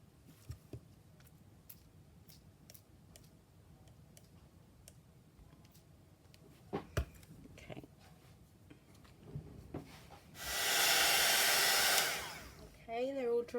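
A hair dryer switches on to blow air over junk journal paper pieces, a loud steady whir for about two seconds near the end, preceded by quiet clicks and small handling sounds.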